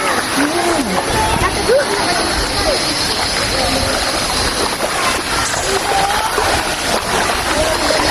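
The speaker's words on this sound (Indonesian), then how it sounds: "suara air terjunnya sudah mulai kedengaran" A steady rush of a waterfall in Tangkahan roars in the background while people talk over it.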